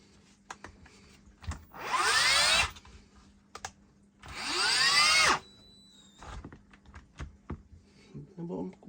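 A battery drill nearly 30 years old with an electric clutch whines in two bursts of around a second each, separated by light clicks and handling noises, with a voice in the background.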